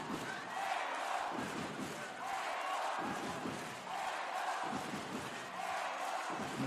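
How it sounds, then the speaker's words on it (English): A basketball arena crowd at a women's EuroLeague game between Bourges and Valencia roars in rhythmic, swelling waves around a free throw, a loud, steady wall of cheering from a large audience. "Listen to the crowd."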